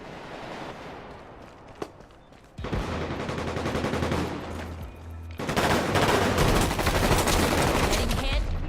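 Dense gunfire erupts in the shooter game Combat Champions, bursts of rapid shots layered in waves that swell louder and more continuous toward the end, with faint game chatter mixed underneath.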